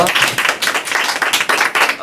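A small audience at a university student presentation and judging event claps for a question, a dense run of hand claps filling about two seconds at steady volume, with a voice mixed in.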